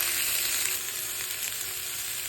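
Vegetables sautéing in butter, with olive oil on hand, give off a steady close sizzle and crackle that runs without a break and with no voices.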